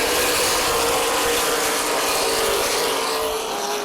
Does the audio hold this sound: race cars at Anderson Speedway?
yes